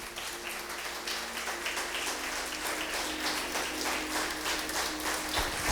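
A church congregation applauding during a sermon: dense, steady clapping from many people that fills the room evenly and holds without pause throughout.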